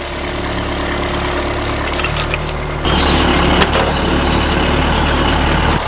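A backhoe engine idles nearby as a steady, loud, low diesel rumble that runs continuously and grows slightly louder partway through, with no speech.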